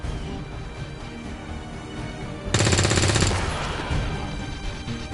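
Rapid automatic gunfire from XCOM 2: War of the Chosen, a dense burst erupting midway and lasting under a second, then trailing into a rumbling echo over a steady game soundscape.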